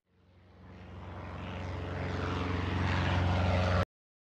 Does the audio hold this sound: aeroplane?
yes